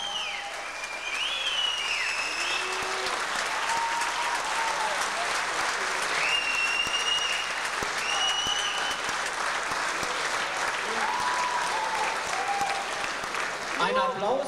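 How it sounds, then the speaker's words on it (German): An audience applauds steadily at an IFBB bodybuilding championship in Hamburg, the clapping held at an even level throughout while a commentator talks over it. "Ein Applaus begleitet die drei Unterlegenen"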